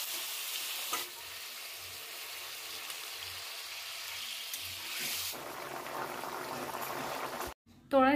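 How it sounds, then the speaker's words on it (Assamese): Bay leaf, dried red chilli and panch phoron spices frying in hot oil for a paneer curry, giving a steady soft sizzle with faint stirring, which swells louder near the end before a brief clatter. "পনীৰ চব্জিটো বনাবৰ বাবে ইয়াতে তেলত তেজপাত শুকান জলকীয়া আৰু পাঁচফোৰণ দিয়া হৈছে"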